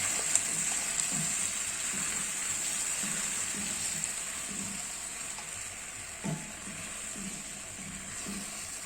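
Cream poured into a hot pan for Alfredo sauce, giving a steady close sizzle and bubbling throughout with faint soft stirring knocks.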